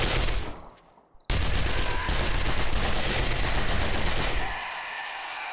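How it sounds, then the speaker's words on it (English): Rapid SMG gunfire in the game 7 Days to Die, a loud sustained automatic burst that cuts in after a brief quiet gap and then eases off. "I'm gonna transition to using the SMG now."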